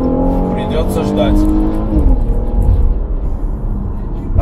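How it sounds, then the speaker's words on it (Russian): A 3.2-litre car engine roars and revs loudly close by, its tone rising and shifting, while someone talks over it. "Хорошо, мотор рычит, мне нравится."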